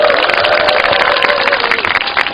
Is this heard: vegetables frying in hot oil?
no